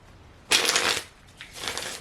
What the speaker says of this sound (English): Give it another shuffly shuffle.